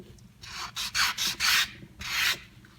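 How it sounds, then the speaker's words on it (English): Sandpaper rubs in short, rhythmic back-and-forth strokes over scuffs near the eye of a carved sperm whale, each rasping pass distinct and close, with brief pauses between strokes. "So to get rid of any scuffs right near the eye, I'm just going to sand it"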